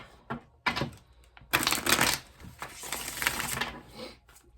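Tarot cards being shuffled up close in several quick papery bursts, with riffling and flicking between short pauses.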